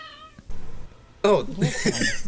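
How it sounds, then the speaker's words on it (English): A cat gives a fairly high-pitched meow, then a louder, drawn-out second meow, both close up, with a brief bit of a person's voice at the start. "It's a different meow quality. You can probably hear it. Hers is a little higher pitched."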